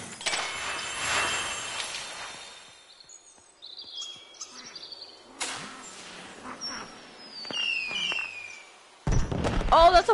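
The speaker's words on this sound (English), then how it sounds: "That's a firework." Fireworks in the video game Concrete Genie, with scattered crackles, whistling rising streaks and soft pops at moderate volume, ending in a louder burst.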